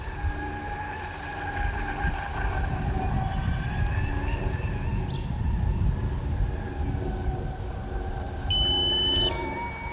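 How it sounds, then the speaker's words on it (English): Steady electronic warning tone from a drone remote controller signalling low battery, sustained alongside drone motor whine and wind noise, with a higher alert beep near the end. "I'm getting my low battery warning."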